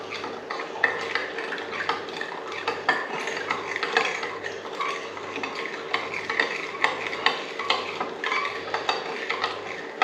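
Pork rub seasonings, including a honey hot hog blend, are mixed together in a bowl with a utensil, producing a steady, close scraping and clinking stir in even rhythmic strokes with no voices over it.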